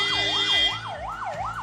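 An ambulance siren wails in a rising and falling cycle on a road, loud and fairly close, repeating several times with traffic rumble underneath.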